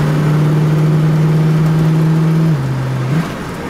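A 1977 Cadillac Coupe de Ville with a 425 7.0L big block V8 holding a loud steady engine drone under hard acceleration, pitch dipping slightly before easing off near the end.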